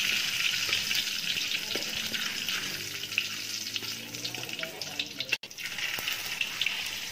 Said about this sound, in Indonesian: Lepas tu masukkan campuran biji sawi. Tunggu sampai bunyi pop sudah habis.